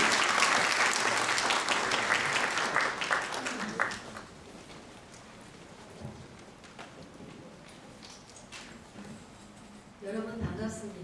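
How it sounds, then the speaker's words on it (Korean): Audience clapping at a Korean architecture culture forum, the applause loud and dense for about four seconds before thinning to scattered claps and a quieter room, then a brief burst of noise near the end. "큰 박수 부탁드리겠습니다."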